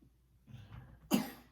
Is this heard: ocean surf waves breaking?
no